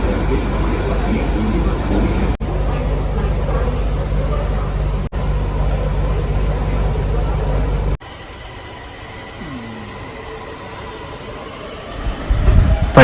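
Delhi metro train running between stations, a steady loud rolling rumble and hum broken by brief cuts, then a quieter cabin stretch as the ride goes on, with some talk.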